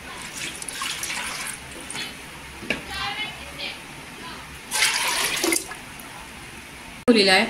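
Water is poured into a pressure cooker holding dal, giving splashing, gurgling bursts that come and go, with a louder pour near the end, while a voice talks through much of it.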